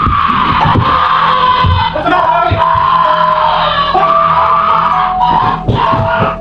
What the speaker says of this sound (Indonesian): terdengar jeritan Katie yang sangat keras